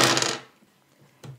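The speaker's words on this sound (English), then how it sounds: "the starting player should take the loot dice and roll them" Loot dice for the Thief's Market board game rattle and clatter as they are rolled onto a table, a short burst that fades quickly, followed by one more faint knock.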